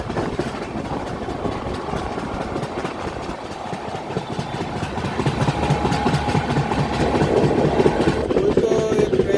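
A goods train rumbles past close by during a crossing, heard from inside a train carriage: a dense mechanical roar with rhythmic rail clatter that grows louder toward the end.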